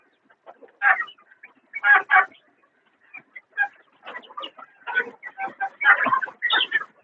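Desi village rooster and fighter-cross chickens clucking in scattered bursts, a steady sequence of short calls close by; a voice may murmur faintly among them.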